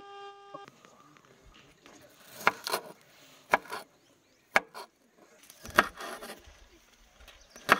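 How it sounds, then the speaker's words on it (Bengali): Onions and chillies being chopped on a board for egg toast while car camping at Pansua Dam in Jharkhand, a run of sharp, irregular knife strikes close by, separated by quieter pauses. "পেঁয়াজ কাটা হচ্ছে, লঙ্কা কাটা হচ্ছে"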